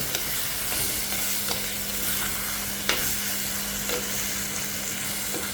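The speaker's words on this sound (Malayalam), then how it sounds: "ഇപ്പോൾ നന്നായി ഇളക്കിയിട്ടുണ്ട്." Raw banana curry with turmeric being stirred in a pot, a steady soft sizzle under scattered scraping spoon strokes against the metal, close and continuous.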